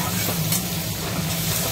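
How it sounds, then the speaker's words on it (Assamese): Carrots and other vegetables frying in a pan for desi-style chowmein, with tomato already added, give a steady close sizzle with faint stirring throughout, no voices. "এইখিনি মই এতিয়া ভাজি লৈছোঁ।"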